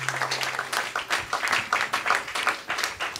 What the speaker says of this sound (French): Acclamons très fort pour la gloire de Dieu, acclamons.